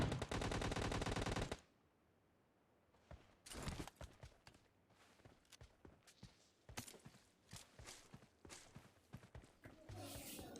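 Gunfire from a PUBG Mobile Lite duo battle royale match: a long sustained automatic burst opens the clip, then after a short lull come scattered shots and short bursts, some near and loud, others fainter, with footstep-like clatter between them.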